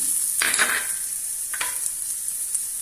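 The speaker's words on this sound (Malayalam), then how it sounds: "നമുക്കിനി വെളുത്തുള്ളി ഇഞ്ചി ഇട്ട് കൊടുക്കാം" Garlic and ginger hit a hot pan with two bright bursts of sizzling frying, the first near the start and a second about a second later, settling into a steady background hiss with no talking.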